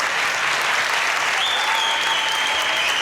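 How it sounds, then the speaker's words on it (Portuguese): Sustained, loud applause from a concert audience giving a standing ovation to the Jaraguá do Sul Philharmonic Orchestra after a symphony, dense and steady throughout, with a faint held tone rising over the clapping. "Pouco a pouco o público se levanta e aplaude em pé."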